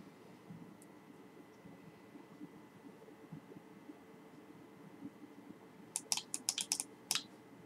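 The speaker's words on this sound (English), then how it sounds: "I was typing again." Quick bursts of computer keyboard typing, a cluster of crisp clicking keystrokes near the end over low room hum and faint rustling, fairly close but quiet.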